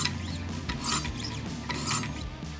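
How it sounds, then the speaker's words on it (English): Straight razor drawn in repeated sharpening strokes on a Wicked Edge guided sharpener, producing close, steady rasping with a few brighter swishes and a faint mechanical hum beneath, and no talking. "And we'll do about 10 strokes of that until we create a burr."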